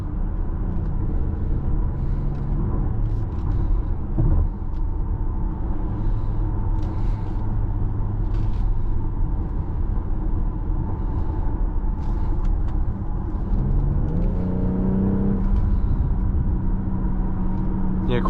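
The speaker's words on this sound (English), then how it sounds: "the car is very eager to accelerate, especially in the Sport Plus" A 2022 BMW X4 M40i accelerating in Sport Plus mode, engine note climbing and holding through the gears as a steady rising drone, with a shift and fresh pull near the end, heard from inside the cabin.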